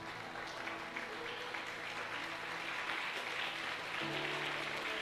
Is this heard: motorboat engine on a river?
no